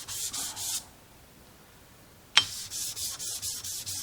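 A 1911 sear jig is rubbed on sandpaper over a flat surface plate in rhythmic back-and-forth sanding strokes, close and fairly quiet, broken by a pause and a sharp click before the strokes resume.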